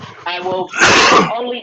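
A loud, close sneeze bursts out midway through a kitchen cooking demonstration, while a person is speaking before and after it.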